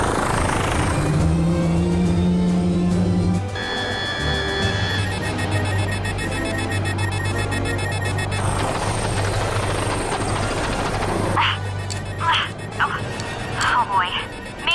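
A cartoon helicopter's engine drones and whirs continuously with shifting tones and electronic beeps in an animated Transformers Rescue Bots scene, loud and steady under several characters talking over radio.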